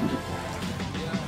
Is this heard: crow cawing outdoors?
no